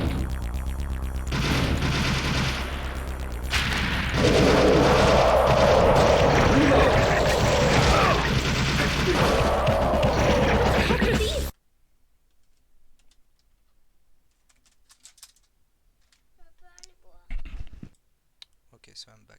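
Arcade video game weapons run through the TeknoParrot emulator fire in a loud, dense barrage of clicks, shots and booms for about eleven seconds, then cut abruptly to near silence with a few faint scattered ticks.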